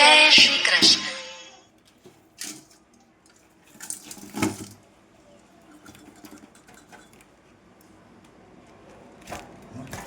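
Water and freshly caught fish, including small shrimp and crabs, are poured from a net into a basin. A loud splashing rush comes first, then a few shorter sloshes and patters with quiet gaps between them.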